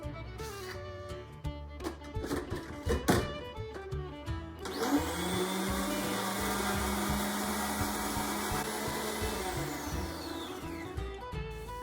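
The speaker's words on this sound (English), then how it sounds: "Now we'll cap this bad boy, put it in the blender, and mix it up." A blender whirs up a mint Shamrock Shake milkshake, a steady loud motor drone that starts after some clattering and knocks and runs on without talk.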